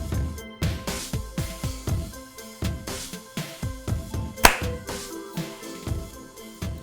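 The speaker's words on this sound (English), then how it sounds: "Clap at 18." Group hand clapping in a steady rhythmic pattern, several sharp claps per second with short gaps, accompanied by background music and one loud crack midway; no talk.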